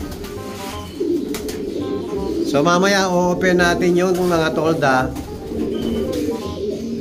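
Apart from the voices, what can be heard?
pet birds cooing in breeding loft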